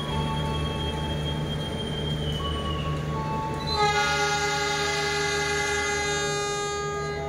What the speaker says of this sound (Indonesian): Joglo Sumarketo mulai diberangkatkan dari stasiun Kutoarjo menuju ke Yogyakarta